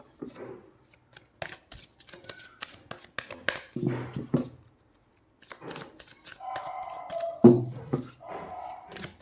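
Tarot cards shuffled by hand during a card reading, a series of soft riffling and flicking bursts of papery rustle, close and fairly loud, with short quiet gaps between handfuls.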